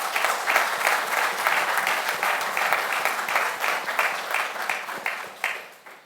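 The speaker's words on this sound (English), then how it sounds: "I think that deserves a lusty round of applause" Audience applause at a university awards ceremony, a steady wash of many hands clapping at moderate volume that swells and then tapers off toward the end.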